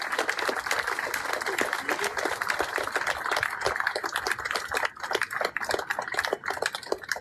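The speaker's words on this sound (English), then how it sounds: "At this time, I want a round of applause for our Port Authority Police." Outdoor crowd applause for Port Authority Police at a memorial walk, with sharp, uneven claps and some voices mixed in, moderately distant and irregular throughout.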